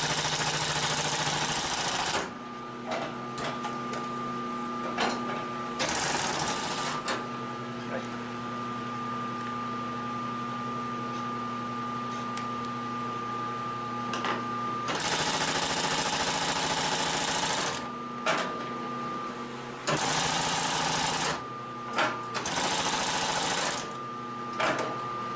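A Consew 744R-30 long-arm walking foot machine for marine sewing stitches through webbing in loud bursts of fast, steady mechanical whirring, separated by brief pauses, with no talk.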